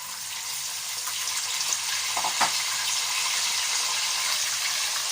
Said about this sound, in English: put in my mackerel, my smoked one